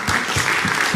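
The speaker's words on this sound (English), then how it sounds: "Can we give them a round of applause, please?" An audience claps in a dense, loud burst of applause for board members of the Bridge Institute being called up at a dialogue event.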